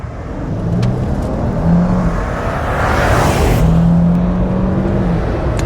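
A 409-horsepower Toyota Land Cruiser LC300 twin turbo accelerates hard from 0 to 100, its engine note climbing and droning steadily through the gears with a loud, rising rush of wind and tyre noise.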